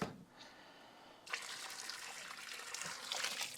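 Hot water poured over plastic Traxxas XRT 8S RC chassis parts for dyeing, a quiet steady splashing gush that starts after a faint moment and continues evenly to the end, close and alone without talk.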